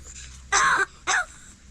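A crow gives two short, harsh, raspy coughing calls close by, separated by a brief pause.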